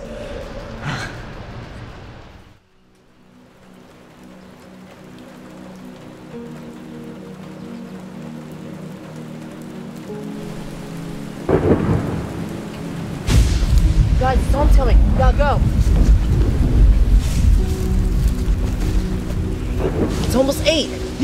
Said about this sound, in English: the storm's already here